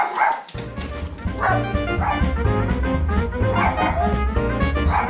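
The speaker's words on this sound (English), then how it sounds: "Watch the man-eating dog there." A dog barks repeatedly and loudly at a visitor arriving at a home clock shop in Silsbee, Texas, the sharp barks coming in an irregular, close, insistent string over a steady low background hum.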